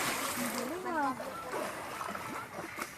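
A person dives into Pandin Lake in Laguna, and a watery splash churns for a moment. People's voices are heard over it and after it.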